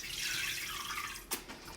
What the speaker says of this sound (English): I'll drain it in the sink and then I'll dump the noodles into the ice bath